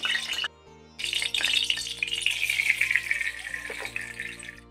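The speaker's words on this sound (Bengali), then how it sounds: "আম সিদ্ধ করে রাখা যে জল ছিল অল্প জল দিয়ে দিলাম" Mango cooking water poured into a pan of hot oil with chopped aromatics while making a sour raw-mango dish, giving a loud sustained sizzle and splash after a brief pause, steady hissing throughout with no voices.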